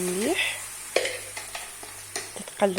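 Vegetables fry in olive oil in a pan with a continuous soft sizzle, joined by scattered spatula scrapes and taps, and a brief tonal sound near the start.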